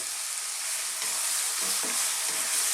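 Chicken and chili stir-frying in a wok over high heat, a continuous sizzle with soft scraping and tossing sounds toward the end, moderately loud and without speech.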